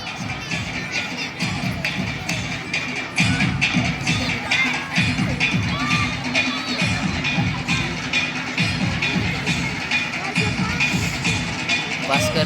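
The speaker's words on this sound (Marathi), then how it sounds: "जोरदार टाळ्या." Loud crowd clapping fills a Marathi game show hall after a gas stove is awarded as a prize, a dense steady roar of applause with crowd noise throughout.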